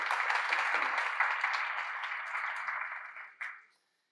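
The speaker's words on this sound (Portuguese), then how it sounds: "uma salva de palmas" Audience applause at a Pfizer cardiology satellite symposium, a dense, steady patter of clapping from a seated crowd that holds evenly, then tapers and stops abruptly near the end.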